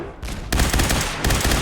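AER 4 refurbished laser gun firing in Fallout 4, a burst of rapid, loud, dense crackling shots that start abruptly and carry on in a sustained stream with brief intensity shifts.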